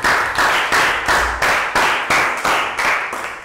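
Year 3 class clapping in a primary health lesson on Thai sports: loud, close, rhythmic unison claps, about two per second, each a sharp burst, with no talk.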